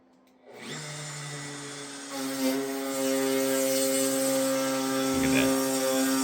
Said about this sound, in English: Victor's first somewhat successful use of a router